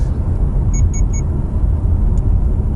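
Steady low engine rumble and road noise from inside a moving Subaru Crosstrek Limited, constant and fairly loud, with a few faint high beeps partway through.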